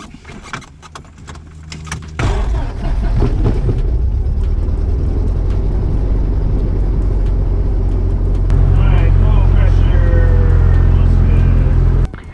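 A Cessna's propeller engine cranks and catches, jumping into a loud, close, throbbing drone that holds steady and then swells louder for the last few seconds before dropping off.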